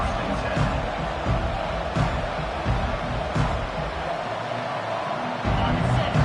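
A dense stadium crowd roaring at a college football game between Ohio State and Georgia, a continuous loud wash of voices swelling in waves while the offense lines up.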